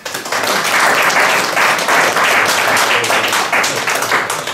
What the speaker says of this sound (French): et je demande de l'applaudir.